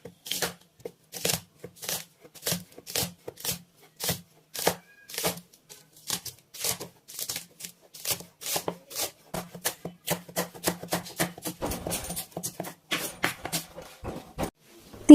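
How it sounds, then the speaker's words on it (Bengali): A knife finely chops four or five spring onions on a board, giving a fast, steady run of close, crisp taps that quicken toward the end, with no talking. "পেঁয়াজের কলি নিয়ে নিয়েছি 4-5টা, সেগুলো আমি কুচি কুচি করে নিচ্ছি"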